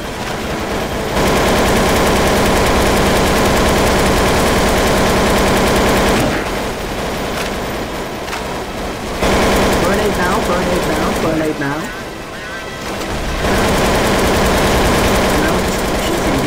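Guns in Counter-Strike: Source Zombie Escape on ze_best_korea_v1 rattle in dense, sustained automatic fire, loud and nearly unbroken, with players talking over the shooting.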